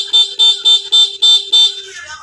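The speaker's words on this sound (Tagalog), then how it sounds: "may busina." Six short, shrill horn beeps from a new Honda Wave 110 FI motorcycle with a faulty humming flasher, in a quick, even series, loud and close, then a fading tail.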